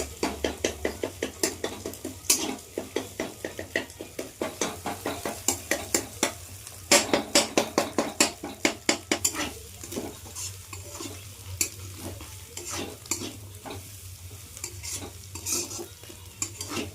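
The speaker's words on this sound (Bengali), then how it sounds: "এইগুলো একসঙ্গে ভাজতে হয়, তুমি তো ভাজো না।" A spoon stirs food frying in a pan with rhythmic scraping strokes repeating throughout, over a constant low sizzle and occasional clinks of metal.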